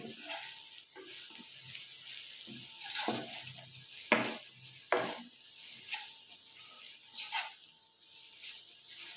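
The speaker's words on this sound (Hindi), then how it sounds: "हम मसाले को अच्छी तरह से भूनेंगे।" Spice masala sizzles and fries in a pan for an aloo dish, with a steady close hiss broken by repeated scraping stirs and a few sharper clacks, no talking.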